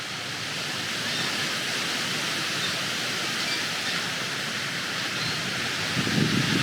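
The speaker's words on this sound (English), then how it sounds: "It's a strange wind." Steady broadband rushing wind gusting through trees, with a slight swell near the end; no voices.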